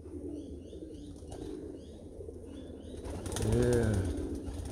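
Tiger grizzle and Carno's Meuleman racing pigeons coo and shuffle in a loft, a close, steady murmur, and near the end a louder voiced sound rises briefly over them.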